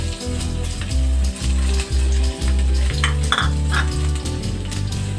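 Ginger sautéing in a pan for salmon sinigang in miso, a steady loud sizzle broken by repeated stirring scrapes and clinks of the utensil against the pan.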